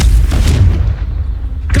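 A Confringo blasting spell goes off in Hogwarts Legacy, a loud close booming explosion with a heavy low-end thump that decays over about a second, followed by a brief faint crackle.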